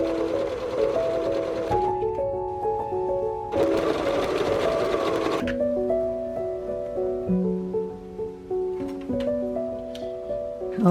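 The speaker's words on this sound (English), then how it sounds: "I'm going to just serge these 2 lines here, this line and then this line" A serger runs close by, sewing seams on a puffed sleeve shirt in several rapid whirring bursts with pitch shifts and brief pauses between runs, with no talking.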